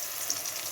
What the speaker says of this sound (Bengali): এবারে পেঁয়াজ ভাজা তেলটার মধ্যেই শুকনো লঙ্কা দেবো আর তেজপাতা দেবো আর একটু জিরে ফোড়ন দেবো।